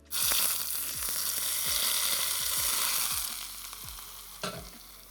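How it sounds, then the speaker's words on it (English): Hot oil poured over spring onion crackles and sizzles loudly and steadily, with soft repeated knocks of stirring underneath and no talking. "when that oil's nice and hot, then you want to pour it over your spring onion"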